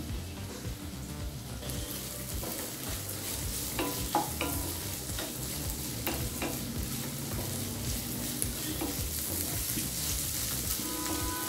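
Steady sizzling of onions sautéing in a pan with green chilli and ginger for poori masala, with occasional scraping stirs over a constant crackling hiss.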